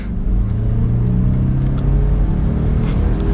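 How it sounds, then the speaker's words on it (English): A 2022 Land Rover Defender S 90 gaining speed on pavement, its engine giving a steady, loud, low drone with light acceleration heard from inside the cabin, no talking. "with a light acceleration, we're up to speed, plenty of power for this engine"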